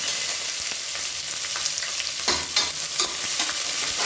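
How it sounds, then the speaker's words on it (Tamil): Onions sizzle and fry steadily in hot oil for chicken biryani, with a spoon scraping and stirring through them in close, continuous bursts. "வெங்காயம் நல்லா வதங்கட்டும்."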